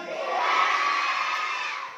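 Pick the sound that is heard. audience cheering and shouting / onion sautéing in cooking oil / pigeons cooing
audience cheering and shouting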